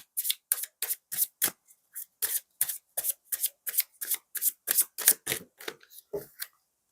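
Tarot cards are shuffled and drawn by hand in a run of crisp, papery riffles and slaps, about two dozen sharp bursts at a brisk, uneven pace, close and clear against near silence.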